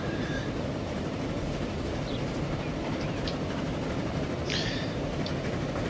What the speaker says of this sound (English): We've got a steam train coming by, we've got one on the viaduct.